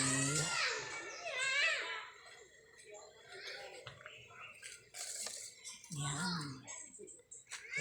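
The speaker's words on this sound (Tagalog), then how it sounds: "mga batang naglalaro sa labas" Children play outside a home garden, their high voices, shouts and cries rising faintly in the distance while someone speaks closer by.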